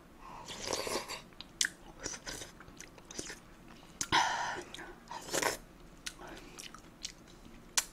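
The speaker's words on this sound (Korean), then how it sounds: "그럼 맛있게 먹어보겠습니다" Close, loud crunching bites and chewing of crunchy Shin Ramyun ppogli, instant noodles crushed and eaten by the spoonful, with irregular crisp snaps between softer chews and a faint whisper now and then.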